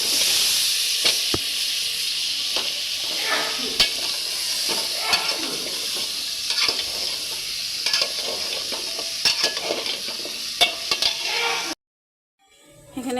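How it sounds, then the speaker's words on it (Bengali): Vegetables sizzling in spiced oil in a pan, loud continuous hiss with repeated sharp scrapes and clacks of a stirring spoon, ending abruptly in near silence. "এখন তরকারি দিয়ে দেব।"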